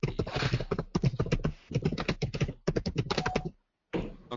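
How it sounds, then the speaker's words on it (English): Fingers type quickly on a computer keyboard, a dry clatter of keystrokes in uneven bursts that stops briefly near the end, with no voices. "somebody's typing here"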